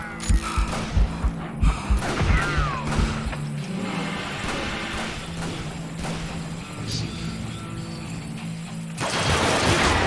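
Gunshots ring out in the Western shooter Call of Juarez: Gunslinger, a quick cluster of sharp close bangs at the start followed by a lingering rumble of game sounds and scattered hits.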